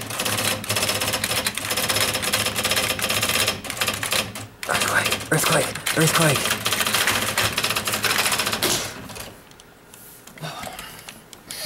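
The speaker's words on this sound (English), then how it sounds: "Start typing stuff." Rapid mechanical clatter of typewriter keys runs nearly nonstop, loud and close, with a brief pause midway and a shouted voice over the typing before it thins out near the end.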